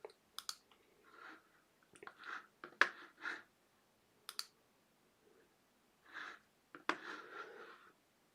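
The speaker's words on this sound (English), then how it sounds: "You can see my mouse clicking." Computer mouse buttons click in scattered bursts, single and double presses with pauses between, close and crisp in an otherwise quiet room with no talking.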